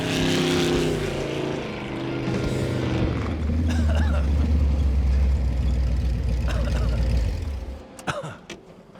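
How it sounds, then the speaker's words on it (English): Loud, close engine exhaust roars and climbs steadily in pitch, then drops away near the end, leaving a few faint clicks. "The sound of the exhaust right there in stereo, pure adrenaline rush."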